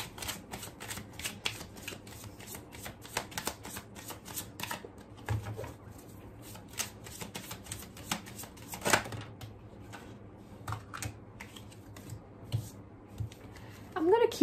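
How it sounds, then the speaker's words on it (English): Tarot cards being shuffled in quick riffling bursts, soft and close, with pauses between rounds and a faint voice in the background. "I'll shuffle this one more time"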